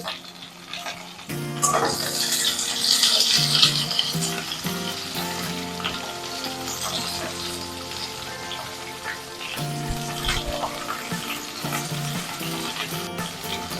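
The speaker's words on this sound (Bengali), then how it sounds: "তেলের মধ্যে ডাটাগুলোকেও কষিয়ে নেবো" Malabar spinach stems sizzle and crackle in hot oil in a pan, a dense continuous frying hiss with occasional stirring clatter, loud and close, with no voices.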